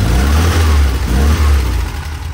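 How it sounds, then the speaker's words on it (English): A 1967 VW Type 3 Squareback engine runs loud and close, revving with a steady, throaty low rumble that rises and dips slightly, with no talk over it. "the engine's running pretty well now."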